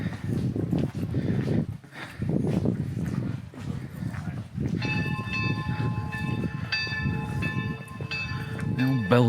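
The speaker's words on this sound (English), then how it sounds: "The old bell's going." An old church bell rings in a Bavarian Alps town in winter, its bright ringing tones starting midway and continuing over people talking and busy street noise.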